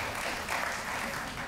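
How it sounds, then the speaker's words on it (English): An audience at a Latino leaders' event with mayors gives a brief round of applause, heard as a soft, dense, even wash of clapping. "So let's give Mickey and the Latino Network a round of applause."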